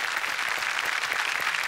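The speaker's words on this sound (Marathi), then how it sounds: "जोरदार टाळ्या झाल्या पाहिजेत" A crowd gives loud, dense applause at a festival gathering in Pune honouring a trust's 125th year, with steady clapping throughout and no speech.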